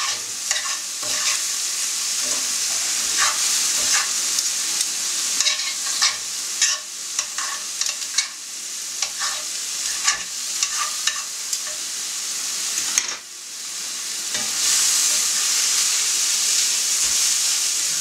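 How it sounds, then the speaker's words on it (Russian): Meat for shawarma fries over high heat in a pan, a loud steady sizzle and hiss broken by repeated scraping stirs that come in quick uneven bursts, with no talking. "Важно, чтобы мясо у нас не варилось, а именно жарилось."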